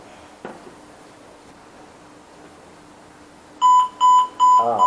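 A corona self-test kit's timer sounds near the end, three loud, bright electronic beeps in quick succession after a few seconds of near silence with one faint knock.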